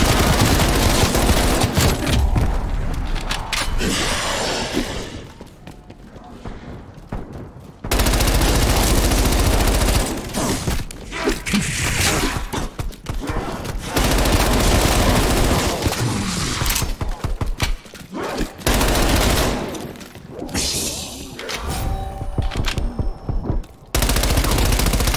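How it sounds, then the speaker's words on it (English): Submachine gun fire in Call of Duty rattles out in long, loud automatic bursts, broken by short pauses and quieter stretches between volleys. "Submachine gun. Go."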